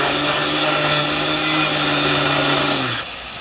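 Power tool grinding continuously and loudly while cutting off the seats of a project car in a workshop, a steady harsh whine with a droning low tone that cuts out near the end.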